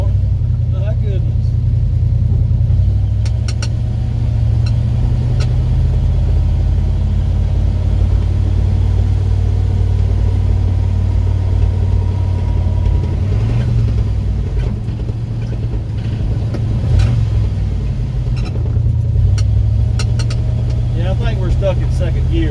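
A 1981 Ford F100 pickup with a 351 Windsor V8, stuck in second gear after sitting for 24 years, drives along with a steady, deep engine drone and rumble close by.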